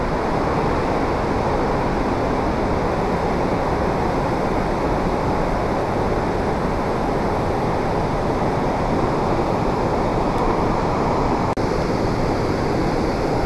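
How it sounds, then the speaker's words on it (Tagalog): Strong current of water rushing at the edge of a dam, a loud, steady broadband roar that fills the scene without pause. "pinakagilid ng malakas na agos sa dam"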